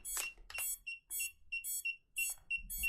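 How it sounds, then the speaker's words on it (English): FPV goggles beep repeatedly while binding to a Pavo20 Pro drone's O4 Air Unit Pro, giving a steady series of short, bright electronic tones in a quick regular rhythm, close and clear with no talking. "And it'll go beep beep."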